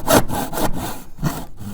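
A hand saw cuts through wood for a leather couch's center leg bracket, with close, rhythmic rasping strokes, about five back-and-forth pulls in quick succession and no talking.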